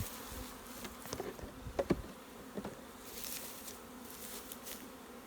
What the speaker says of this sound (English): we're just going to knock the loose bees into there